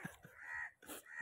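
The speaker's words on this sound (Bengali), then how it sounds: "ভাই দেখো উপরে কাক" A crow caws a few times outdoors, with harsh, fairly close calls in a short burst over faint background noise.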